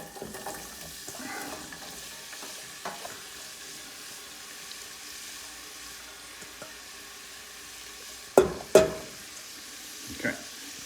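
Onions frying in melted butter in a pan, a steady soft sizzle with a few sharp clatters of a utensil near the end and no voices.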